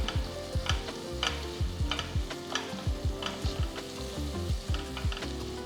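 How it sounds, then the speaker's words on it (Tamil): Onions sauté in a pan for sambar rice, with a close, continuous sizzle and rhythmic spatula scrapes and taps as they are stirred. "ஃபஸ்ட் நம்ம வெங்காயத்தை வதக்கணும்"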